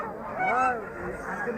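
Ducks at a poultry market give a short run of nasal honking quacks, close and fairly loud, with a hint of background voices.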